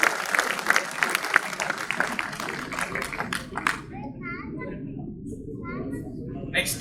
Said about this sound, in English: Please give a big round of applause for RMHP Collective.